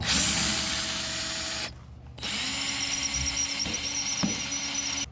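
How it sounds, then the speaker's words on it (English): A power drill whines steadily at close range, drilling out a brass fitting on a 1940s Johnson Seahorse KD15 outboard motor, stops briefly, then starts again and keeps running with small catches and clicks. "So probably what I'm going to do is drill this out and put in the brass barb."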